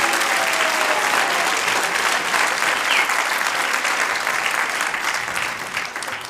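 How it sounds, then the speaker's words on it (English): An audience at a Gita Jayanti gathering at Bhaktivedanta Manor claps in sustained, dense applause that holds steady and then begins to fade toward the end. "we should give him one more round of applause"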